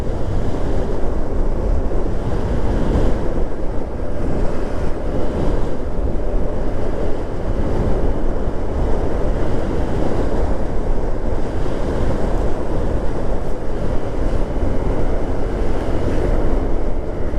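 Strong wind roars steadily across a microphone on a mountain road near Mount Bromo, a loud unbroken rush that covers everything else.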